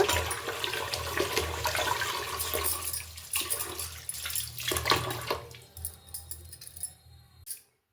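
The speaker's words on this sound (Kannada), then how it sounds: "ರಾಗಿನ ಫಸ್ಟು ತೊಳೆದ್ಬಿಡ್ತೀನಿ" Finger millet (ragi) grains being washed by hand in water, with steady sloshing and swishing that fades out near the end.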